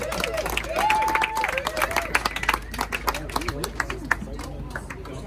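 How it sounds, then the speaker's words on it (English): Crowd at an outdoor ribbon cutting with the Fort Collins mayor claps and cheers, a dense burst of applause mixed with babble and voices talking over it, tapering into scattered claps. "how about a huge thanks, a round of applause to Jesse Reed and our whole team for putting"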